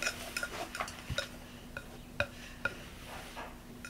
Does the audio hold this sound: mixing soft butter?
yes